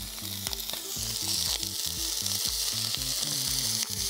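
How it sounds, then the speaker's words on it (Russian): Steady, close sizzling and crackling of chicken bones frying in hot fat in a pan, with rhythmic low scraping or bubbling pulses underneath. "Буду жарить косточки."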